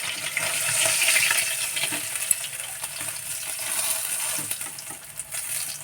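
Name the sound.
tilapia fish frying in oil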